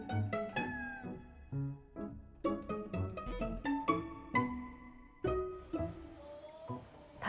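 A pet cat, one of two kept in a household, meows repeatedly and close by, a run of short, varied calls with brief pauses between them and no talking.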